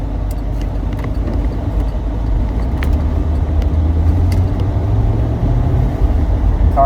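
A C4 Corvette drives along, its engine droning steadily and swelling as it accelerates, with road and wind noise throughout and no talking.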